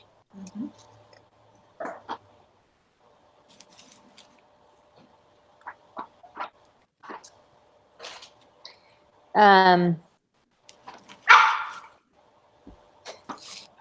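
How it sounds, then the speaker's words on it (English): A puppy barks indoors in short, sharp bursts scattered irregularly, with a couple of louder yelps standing out among quieter household noises and a background hum. "Sorry, my puppy's barking."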